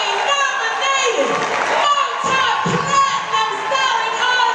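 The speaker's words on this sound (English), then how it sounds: "Start clapping right now. Put your hands together" A live concert audience at a Grammy-nominated R&B artist's show claps and cheers steadily, a dense crowd roar with scattered shouts under a host's amplified voice.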